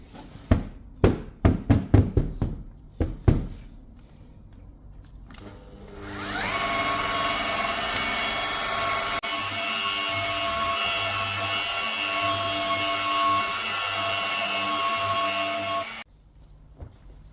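After several sharp knocks, a rotary polisher with a cutting pad spins up and runs with a steady loud whine against car paint, then cuts off abruptly.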